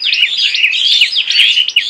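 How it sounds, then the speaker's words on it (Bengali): Myna birds chirp and twitter busily while pecking at puffed rice, a dense, continuous chorus of bright overlapping calls, close and fairly loud, with no talking. "তো এখানে অনেক পাখির এই যে কিচিরমিচির শব্দ শুনতে পাচ্ছেন আপনারা।"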